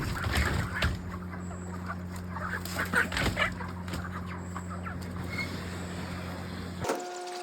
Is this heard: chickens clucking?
yes